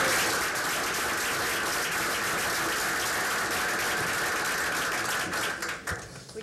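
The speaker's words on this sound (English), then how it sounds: "Ladies and gentlemen, another round of applause for Jason." Audience applause at a school board meeting, a dense, steady roomful of clapping that holds loud throughout and starts to thin and break up near the end, with no talking over it.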